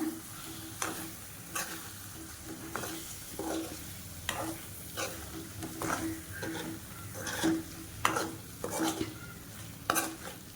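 Spoon scraping and stirring egg gravy in a pan, a run of distinct clatters and scrapes at an uneven rhythm over a soft, steady cooking sizzle, close and moderately loud, with no talking.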